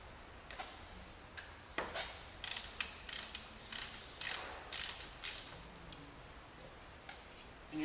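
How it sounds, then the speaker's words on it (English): A ratchet fitted with a 19mm socket clicks in repeated short bursts while loosening the oil drain plug on the driver's side of a 2.7T Audi A6, close and fairly loud, with no talking. "we're going to remove the drain plug, which is located here on the driver's side of the vehicle"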